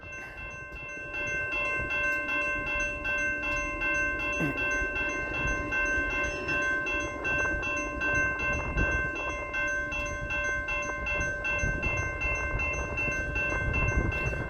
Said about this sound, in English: I'm gonna guess it's a cargo train